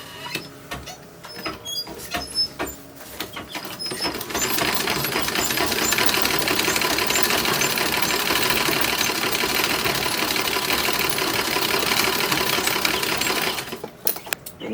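Sewing machine stitching a gusset into toddler underwear, starting with a few short halting bursts, then running in a long steady close whir with rapid needle clatter before stopping.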